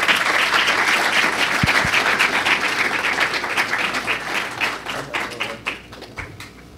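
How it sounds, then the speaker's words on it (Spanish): Applause from an academic conference audience, a dense, steady wash of many hands clapping that thins and fades toward the end, with a few sharp individual claps standing out. "Gracias al doctor Boria, un fuerte aplauso para él"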